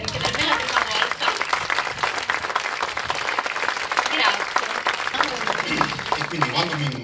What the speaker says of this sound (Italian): vi chiedo di incoraggiarmi con un grande applauso